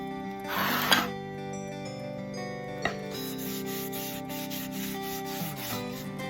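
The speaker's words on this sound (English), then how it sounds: "I'm simply just applying it with some old shredded up pieces of a t-shirt" Old Masters Dark Walnut wiping stain is rubbed onto scrap wood with shredded t-shirt rags, giving a close, continuous scrubbing and rubbing with a few sharper knocks of the rag against the board, alone without talk.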